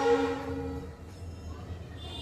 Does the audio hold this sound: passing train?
yes